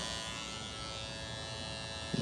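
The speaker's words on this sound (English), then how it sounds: "The other thing I do love about this trimmer is the blade is very quiet" A Bevel cordless hair trimmer runs steadily with a quiet, even electric buzz and a thin high whine, close to the microphone and without talk, ending in a small click.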